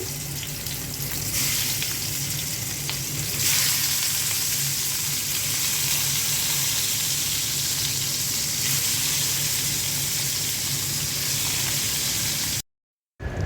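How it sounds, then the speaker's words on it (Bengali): Rohu fish frying in oil in a pan, a steady loud sizzle that holds throughout before cutting off abruptly near the end. "তরকারি রান্নার জন্য মাছটা ভেজে নিচ্ছি।"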